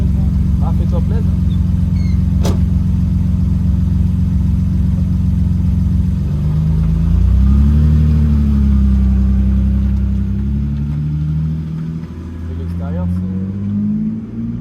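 A BMW E30 with a 3.0L engine and full stainless-steel exhaust idles with a deep, loud rumble, then revs up in a few rising blips that fall back to idle, up close with people talking over it.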